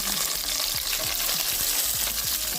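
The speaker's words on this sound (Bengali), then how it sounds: "গরম তেলে বেগুনটা দেওয়া হয়ে গেছে" Eggplant pieces rubbed with salt and turmeric frying in hot oil with garlic and chillies, a dense continuous sizzle broken by regular spatula scrapes.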